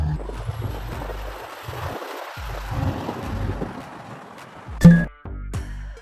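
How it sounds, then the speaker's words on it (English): A cement tanker truck rumbling steadily at close range, low engine drone with wind buffeting, then a sharp loud thump and a few short knocks near the end. "Cement tanker truck. Cement tanker truck."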